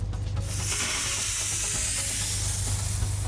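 A fire hose nozzle flows water during a progressive hose lay drill while its setting is adjusted. A steady, loud rushing spray begins after a brief moment and runs on over a low hum.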